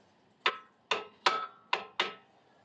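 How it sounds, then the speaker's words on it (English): Five sharp, evenly spaced metallic strikes as a frame part of a Tote Gote Model 770 is knocked into a tight-fitting position, each blow crisp and close with a brief ring. "I wish I had a regular hammer, but you know, Ben, knucklehead."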